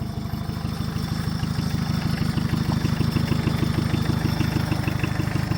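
A tractor's diesel engine idles steadily after being restarted, a close, even low rumble with a fine rhythmic chug and no pauses.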